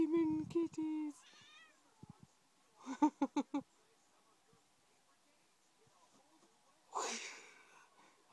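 Cats meow indoors: a cluster of clear meows, then a quick run of short mews, and later a louder drawn-out wheezy cry, with quiet gaps between.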